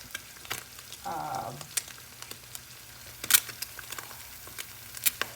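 Eggs frying in a pan, a steady soft sizzle with sharp clicks and taps of a utensil scattered throughout, plus a brief louder burst of rustling near the start; no talk.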